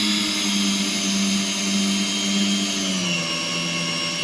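Parkside cordless drill driving a large 80 mm screw into wood, a steady loud motor whine held for about four seconds that drops in pitch as the screw bites, ending abruptly.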